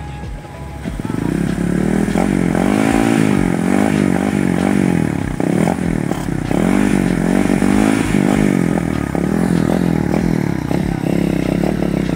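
A motorcycle engine that has taken in water runs loudly and close, its pitch rising and falling with revving, while a voice talks intermittently over it.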